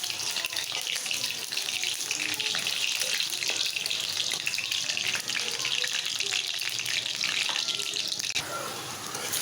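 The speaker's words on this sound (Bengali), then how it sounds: "তো আবার একটু পেঁয়াজ ভেজে নিতেছি," Onions frying in oil in a home kitchen, a continuous hissing sizzle with bursts of spattering that holds steady for several seconds, close and fairly loud, then eases slightly near the end; no one speaks.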